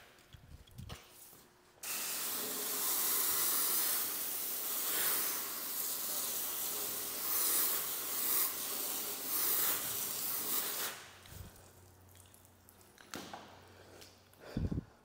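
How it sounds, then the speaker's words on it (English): Water sprays onto a tire during rinsing, a close, steady hiss that runs for about nine seconds with small surges, then stops, leaving quieter drips and handling noise. "and rinse thoroughly"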